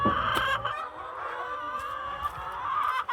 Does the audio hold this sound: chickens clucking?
yes